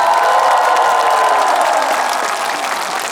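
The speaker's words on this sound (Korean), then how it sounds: "다시 한번 큰 박수를 부탁드리겠습니다" A large outdoor crowd at a candlelight rally calling for President Park Geun-hye's impeachment claps and cheers, a dense, loud, sustained roar of applause that eases slightly toward the end.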